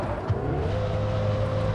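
Engine of a low-health car in a mobile racing video game, a steady synthetic drone that climbs slightly in pitch, with a short thud near the start and no voices.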